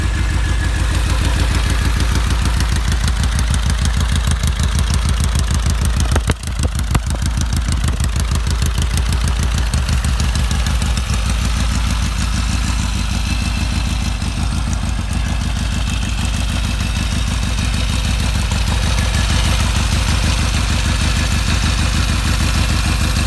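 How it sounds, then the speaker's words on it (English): A 1975 Norton Commando 850 motorcycle engine runs close and loud, a steady, dense idle throb that continues evenly with only a brief disturbance early on. "And hear what an old bike sounds like here."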